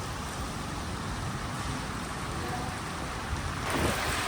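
Heavy rain pours steadily in a Chinese city street, a dense continuous hiss of downpour on surfaces, close and loud throughout, with a slight swell near the end.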